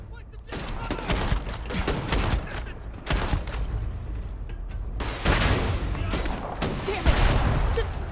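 Rapid bursts of gunfire in a video game firefight in Starfield, loud dense volleys of shots running through the whole stretch with a heavier barrage near the end, voices faintly mixed in.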